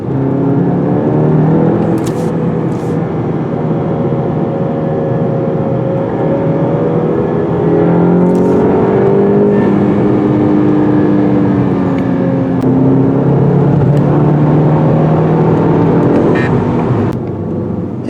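Engine roar from inside a 2020 Volkswagen GTI with a turbo and 6-speed manual, rising and falling in pitch as it accelerates through gears, loud and continuous with a whooshing whir.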